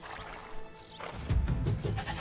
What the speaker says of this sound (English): A whole bunch of sheep here.